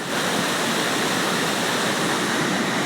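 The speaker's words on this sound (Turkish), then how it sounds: "Antalya Düden Şelalesi'nde mükemmel bir atmosfer ve mükemmel bir görüntü su sesi eşliğinde" Steady roar of rushing water from Düden Waterfall in Antalya, Turkey, dense and continuous, fairly loud and close, with no voices.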